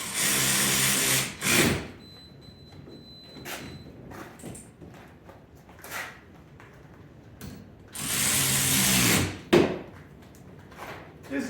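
A power driver tightens bolts on a 2021 Ecoboost engine bay. Two long whirring bursts sit near the start and again later, with quieter clicks and mechanical clatter between them and no talk.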